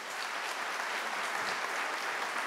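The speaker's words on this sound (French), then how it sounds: "applaudissements." An audience at an energy-transition awards ceremony claps steadily throughout, a dense, continuous applause with no break and no voices over it.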